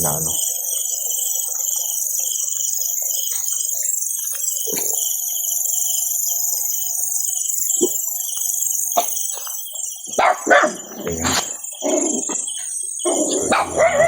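Dogs bark in short bursts, scattered at first then clustering toward the end, over a steady high insect drone.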